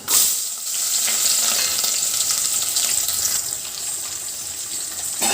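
Onion frying in hot oil with mustard seeds and urad dal for a pumpkin masala, giving a steady loud sizzle and hiss that carries through the clip with no voices.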